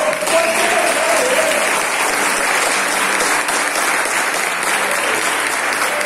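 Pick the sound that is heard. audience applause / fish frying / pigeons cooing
audience applause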